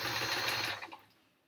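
A sewing machine stitches a quilt in a quick, steady, close whirring run that slows and fades to a stop after about a second.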